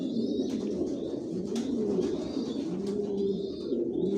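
A long-distance racing pigeon hen of the Maxi racer Janssen line, sitting on eggs in a loft, coos steadily in low rolling tones throughout, with faint chirps from other birds behind.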